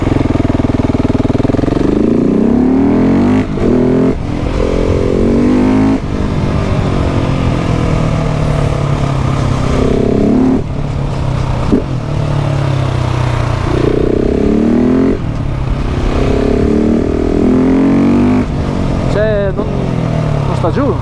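KTM 690 SMC R supermoto accelerating hard with the front wheel lifting, its loud single-cylinder engine revving and surging repeatedly throughout, close up, with a rider's voice talking over it.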